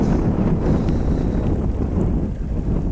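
Strong wind roars into the microphone during rain at threshing time in Sarıkaya village, a loud, constant rumbling buffet with no pauses.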